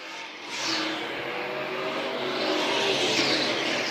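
A 1936 Oldsmobile vintage race car, pink, at a vintage race meet in Dillon, South Carolina, engine droning and rising as it rolls up to the line, loud and close, with no talking.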